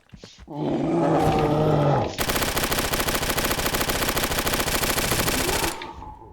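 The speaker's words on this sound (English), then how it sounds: "the Star 61 has a really high rounds per minute, so it should shred him pretty fast" The Star 61 sidearm fires in a video game, a continuous rapid burst of gunfire lasting several seconds after a growling creature roar at the start, loud and dense.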